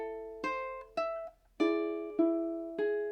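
Fingerpicked ukulele playing measure 9 of a song: five distinct plucked chords and notes in a slow, even rhythm, each ringing out clearly and close up with no talking.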